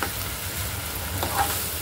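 Onion and tomato sauté in hot oil in a pan, a brief, close, continuous sizzle with a faint stir near the end, heard alone without talk.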